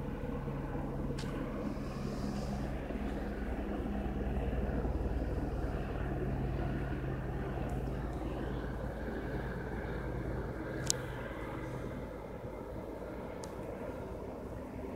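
A police helicopter passes overhead at night as a steady, distant rotor and engine rumble, holding evenly throughout with a few faint incidental clicks.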